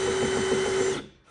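A power drill spins at a steady high whine while drilling a hole during plumbing and electrical work in an off-grid house, then cuts off abruptly after about a second.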